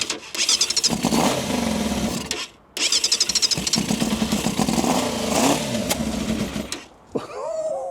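A barn-find Yamaha FZR 600R motorcycle on choke cranks and fires, its engine catching and running loud and close with an uneven, rough idle, briefly cutting out before restarting and revving, then dropping away into a short trailing whine.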